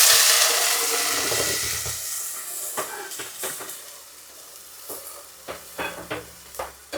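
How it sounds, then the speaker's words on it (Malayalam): Onions fry in a pan with curry leaves and dried red chilies for a masala dosa filling, giving a steady close sizzle that slowly fades, broken by sharp spoon scrapes and taps as the mixture is stirred. "ഉള്ളി മൂത്ത് കഴിയുമ്പോ കറിവേപ്പിലയും വറ്റൽമുളക്."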